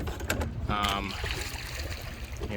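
Paddle strokes and water sloshing from a small boat on the State Park Bridge stretch of the Dragon, close and busy, with splashes and knocks under a steady rush of water.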